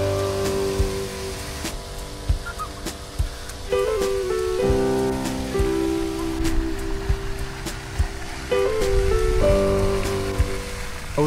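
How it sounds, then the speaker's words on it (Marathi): Rain falling steadily over a garden with a fountain and fish pond, a continuous hiss of drops on surfaces close by, with a low tonal hum running underneath. "पाऊस देखील पडत होता आणि त्यामुळे बाग अजूनच सुंदर वाटत होती."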